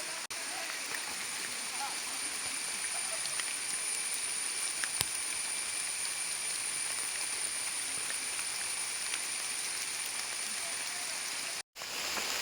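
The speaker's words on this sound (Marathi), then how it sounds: "बाहेर पाऊस पडतोय, बट इथे जास्त पाऊस जाणवत नाही" Rain patters continuously in the Andharban forest, a soft, even hiss with steady insect-like buzzing above it and a brief dropout near the end.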